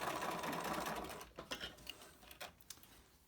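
A sewing machine top-stitches along the edge of a fabric face mask with a filter, a fast continuous whirr at first, then short separate bursts of stitching, fairly close and alone.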